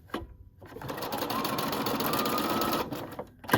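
A sewing machine stitching a wrap dress tie runs in one steady close burst of rapid mechanical stitching, starting and stopping abruptly.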